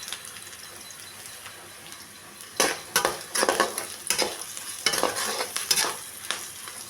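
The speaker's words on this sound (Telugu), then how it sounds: "ఉల్లిపాయ ముక్కలు వేగిపోయినాయండి" Onion pieces fry in a pan with curry leaves and turmeric while a spatula scrapes and stirs in bursts. Loud, close rattles and scrapes ride over a continuous sizzle, with no one speaking.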